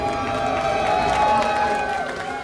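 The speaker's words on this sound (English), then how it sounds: "Sprightly crowd for the final game we have here of the day." A crowd at a League of Legends esports arena cheers steadily, with a dense mix of voices and applause under a commentator's talk.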